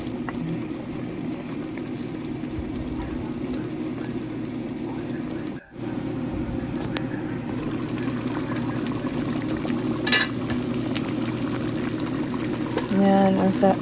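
Pork ribs simmering in homemade tomato sauce in a pot, a steady low bubbling boil that runs continuously and fairly close, with a brief dropout midway and a few clinks of utensils near the end.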